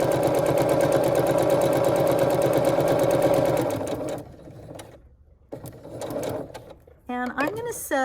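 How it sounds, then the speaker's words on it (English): A sewing machine stitches steadily along the solid line of a foundation paper piecing pattern, a loud continuous rapid whir that slows and stops, followed by brief short bursts and handling noise. "I'm going to start a few stitches before the start of the solid line, and I'm going to sew on the solid line."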